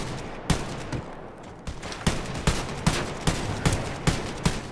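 Gunfire in the video game Wolfenstein: Youngblood, a rapid series of about a dozen punchy shots at a fairly regular rhythm over a low background rumble.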